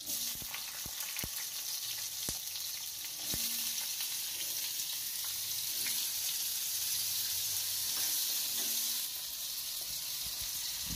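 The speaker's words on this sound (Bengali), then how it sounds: "এই পাশের কড়াইয়ে আমার তেল গরম হয়ে গেছে, এর মধ্যে টুকরো করা আলুগুলোকে আমি ভেজে নেব।" Cut potato pieces sizzle steadily in a pan of hot oil, a dense continuous frying hiss with a few sharp clicks and taps of utensils, swelling slightly partway through.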